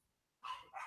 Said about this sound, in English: I'm sorry about the barking dog in the background there.